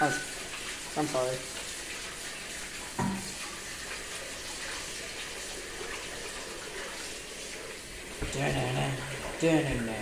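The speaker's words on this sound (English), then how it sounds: "give your hands a quick wash." Tap water runs steadily from a kitchen faucet while hands are washed, a continuous hiss with a few splashy surges and brief bits of talk over it.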